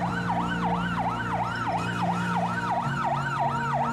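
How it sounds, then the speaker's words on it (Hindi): An ambulance siren arrives at a hospital during the coronavirus outbreak, its loud wail rising and falling in a quick, steady cycle over a low engine drone. "हर 10 मिनट में एक एम्बुलेंस आ रही है, शायद उससे भी ज़्यादा फ्रीक्वेंटली"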